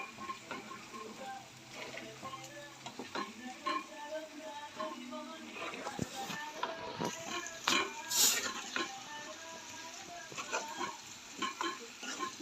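Crispy chicken pickle with garam masala frying in plenty of oil while being stirred, a steady close sizzle broken by repeated scraping and clinking stir strokes throughout.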